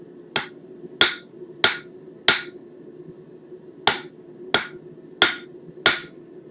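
A blacksmith hammers steel to draw out a taper for a J hook: eight sharp, ringing blows in two groups of four at a steady pace, close and loud over a low background hum.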